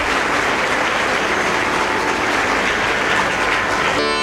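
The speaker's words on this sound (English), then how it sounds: "Can we have a huge round of applause for the artists?" An audience in a school hall gives sitar artists a dense, loud, sustained round of applause that carries on without a break for several seconds.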